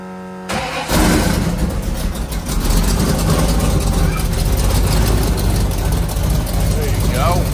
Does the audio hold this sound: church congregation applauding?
no